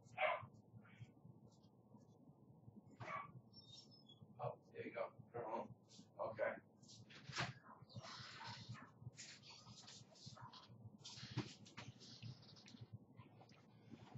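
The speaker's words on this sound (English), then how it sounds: "The dog's in the background going nuts" Dogs bark and yip excitedly in the background of a room, short scattered barks coming in bursts, fairly faint and distant, mixed with some low whimpering and a voice talking.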